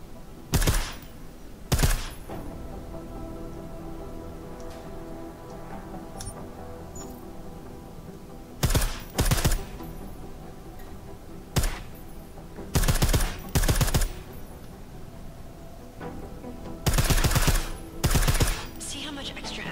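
Silenced gunfire in the video game Deus Ex: Mankind Divided comes in short sharp bursts, several clusters of rapid muffled shots spread over a steady background of game ambience and music.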